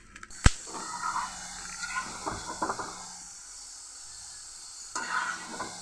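Fried potatoes are dropped into a pan of spiced banana-flower curry being cooked for mochar kalia, with a sharp knock, then bursts of sizzling hiss and scraping that die down and flare again near the end.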